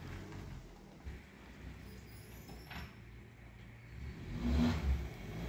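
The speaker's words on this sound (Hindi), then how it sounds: "तो भाई मेरी गाड़ी आ रही है अंदर अब" A Maruti Suzuki Baleno with about 50,000 km rolls into a service center, its engine a low steady hum under workshop ambience, rising slightly louder near the end as the car draws closer.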